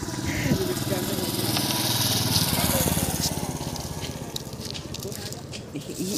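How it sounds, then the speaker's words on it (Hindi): A motorbike engine runs steadily nearby for several seconds beside a roadside spot where poles are being set up, its drone fairly loud and continuous, with brief talk around it. "एक बाइक आ गई"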